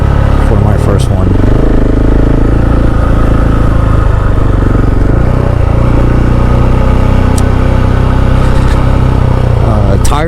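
KTM 690 SMC R supermoto motorcycle riding along back roads, its single-cylinder engine a loud continuous drone with wind noise, revs shifting up and down throughout, with speech over it.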